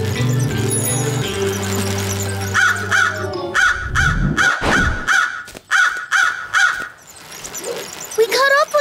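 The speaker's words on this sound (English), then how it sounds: "Seen any crows?" Cartoon crows caw in a loud, rapid string of repeated harsh calls, close and dominant, following a musical passage and a swooping sound effect.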